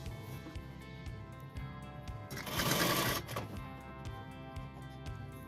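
Sewing machine stitching the collar seam of a reversible notched-collar jacket, running in a steady rapid clatter of needle strokes close by, with a brief louder burst of fabric rustle midway.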